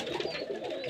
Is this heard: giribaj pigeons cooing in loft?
yes